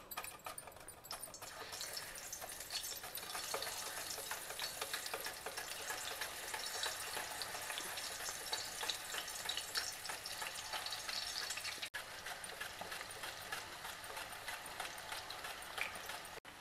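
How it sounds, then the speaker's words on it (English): Peeled vegetable slices fry in hot oil for a South Indian vegetarian meal, a constant close sizzle and bubbling hiss that runs throughout with no talk over it. "We will slice it directly into the hot oil."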